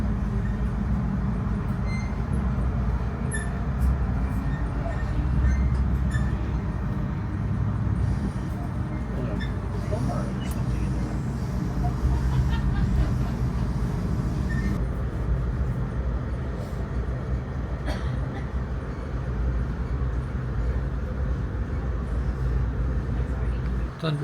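A Via Rail passenger train running between Toronto and Vancouver gives a steady, loud low rumble and rattle heard from inside the car. Faint clanks sound occasionally, and voices are heard at times beneath the noise.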